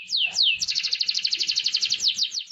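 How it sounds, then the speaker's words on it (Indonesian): A roller canary sings close by with a few swooping notes, then a long, rapid, even trill of bright pulses, clear over a quiet background. "roller selalu memiliki irama kicauan yang luar biasa."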